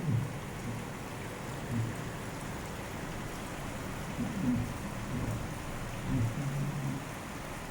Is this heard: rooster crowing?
no